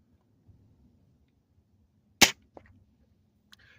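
A Weihrauch air rifle fires a single sharp crack into a puddle, loud and close in a quiet setting, followed by a small splash-like tick and faint rustles.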